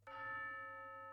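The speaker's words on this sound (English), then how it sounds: "I also use tubular bells for the main accents every fourth" A single tubular bell struck once from the BBC Symphony Orchestra Professional orchestral sample library, a clear bright metallic strike with sustained ringing overtones that hold steadily and fade slowly, heard alone and fairly quiet.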